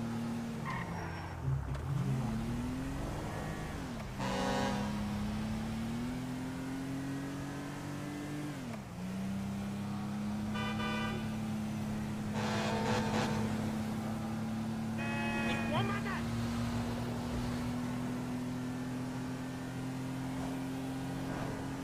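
A car racing a truck in GTA 5, engine droning steadily and rising in pitch through gear shifts, with intermittent tire squeals and skids over a constant loud roar.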